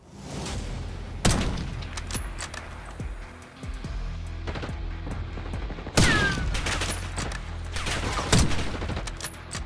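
Rapid bursts of automatic gunfire and sharp shots in Black Ops 6 multiplayer, loud and close, with a couple of heavier booming impacts and no talking.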